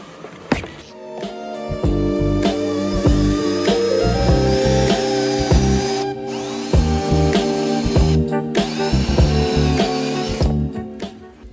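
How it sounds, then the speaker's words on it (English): A power drill whirs in repeated short bursts, stopping and restarting as it drills out a plastic tab on an Audi B5 S4 headlight, loud and close with no talking. "I'm gonna go ahead and drill that out now"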